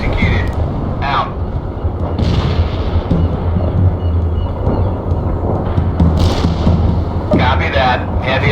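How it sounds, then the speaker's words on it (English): A heavy artillery barrage rumbles in the video game World in Conflict, a continuous loud low roar of distant impacts with sharper blasts on top, and a radio-style voice talks over it. "Heavy artillery barrage inbound."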